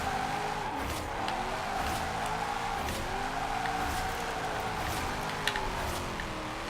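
Nissan 240sx Formula Drift car sliding sideways in the Forza racing game, tires squealing in a long continuous screech over the steady engine drone, with shifting pitch as the car swings back and forth.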